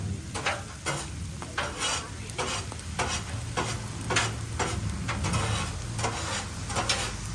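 Eggs fry on a Blackstone griddle with a steady, close sizzle, broken by a regular rhythm of metal spatula scrapes and taps across the flat top.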